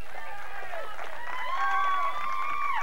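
Audience applause and cheering at a 4-H fair arm wrestling championship, a steady crowd roar with clapping and shouts that swells toward the end, heard alone without talk.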